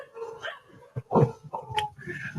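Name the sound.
dogs barking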